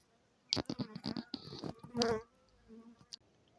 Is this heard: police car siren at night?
no